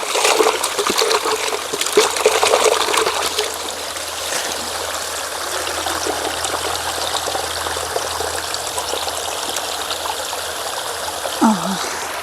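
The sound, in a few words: washing a bucket and filling it with water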